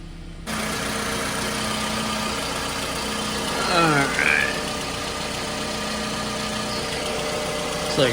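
A 2002-2006 Toyota Camry engine idles steadily after starting, a low continuous hum with a brief rise in pitch midway, like a short rev, close by.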